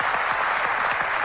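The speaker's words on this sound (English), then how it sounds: "Warm applause from the crowd." Warm applause from a cricket crowd at a Test match in Perth, a steady continuous patter of many hands clapping at moderate distance, filling the whole stretch without pause.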